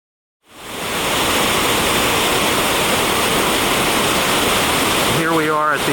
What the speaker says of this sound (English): Here we are at the Upper Falls. Wow, that water's going.